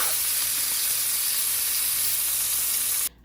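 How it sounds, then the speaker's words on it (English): Country ribs brown in a hot pan with a loud, close, steady sizzle and hiss that cuts off abruptly near the end, with no talking. "All we're trying to do is brown them."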